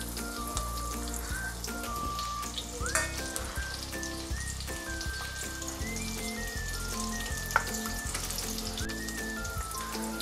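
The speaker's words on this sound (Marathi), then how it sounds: "कांदा टाकते तेलामध्ये," Onion frying in hot oil in a pan for a prawn dish: a continuous close hiss and crackling sizzle with small popping bubbles and occasional stirring clinks.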